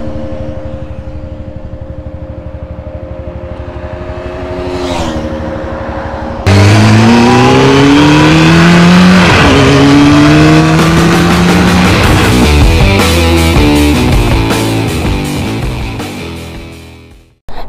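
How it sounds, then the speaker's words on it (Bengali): A Pulsar RS200 BS6 and a Pulsar NS200 motorcycle rev loudly at close range: one engine idles and blips, then a second joins. Both climb through rising gear-change sweeps as they accelerate hard in a drag race before cutting off abruptly. "আরএস আর এনএসের মধ্যে একটা ড্রাগ রেস হোক"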